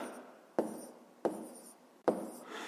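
Handwriting for long division: three short, distinct pen or marker strokes on paper, each a sharp scratchy onset that fades out, heard close and quiet with no talking.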